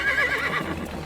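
A horse pulling a carriage through narrow London streets gives a loud, close whinny with a wavering, rising and falling pitch, heard on its own.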